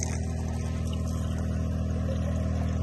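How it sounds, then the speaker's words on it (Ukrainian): Purified water from a portable Emergency Water Systems purifier pours steadily into a 10-litre canister. The stream gives a continuous, close, fairly loud rushing gurgle with no talking. "наповнити ось таку 10-літрову каністру"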